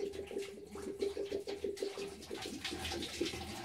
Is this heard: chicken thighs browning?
no